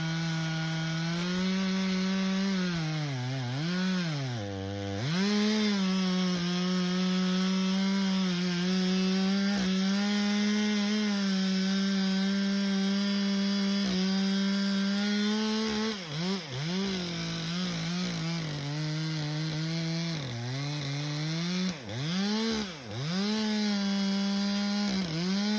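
A power saw rips through large, gnarly wood blanks, throwing chips; the motor whines loudly and continuously up close, its pitch sagging and recovering several times as the blade bogs under load, with no talking.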